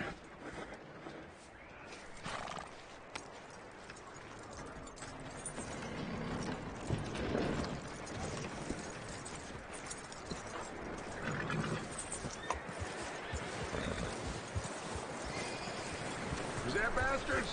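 Hooves of a horse in Red Dead Redemption 2 clip-clop steadily at a walk over a busy outdoor ambience, with a brief whinny and voices talking over parts of it.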